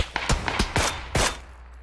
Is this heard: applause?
no